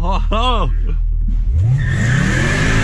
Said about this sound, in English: You burned the tires.